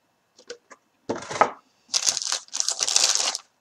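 A plastic bag from a 1/48 Eduard Fokker Eindecker model kit crinkles and rustles close by in a few short bursts, then longer crackling handling.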